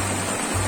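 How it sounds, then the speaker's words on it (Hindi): A milky, transparent river in Pahalgam rushes and gurgles in a steady, even wash of water noise throughout the short moment. "कल कल की आवाज़ करती हुई ये रिवर"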